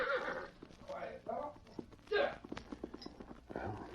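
Horse hooves clip-clop toward a corral in a radio drama, a close walking rhythm of hoof beats along with whinnies, while voices talk over parts of it.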